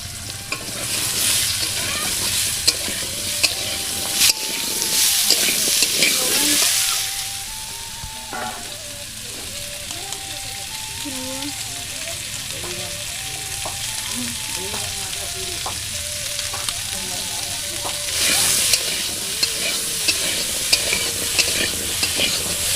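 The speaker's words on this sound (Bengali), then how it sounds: "তাই আলুটা ভেজে নেবো লবণ হলুদ দিয়ে" Steady sizzling of potatoes frying in hot oil with salt and turmeric, with scraping and stirring clatter throughout and louder bursts of hiss at the start and near the end.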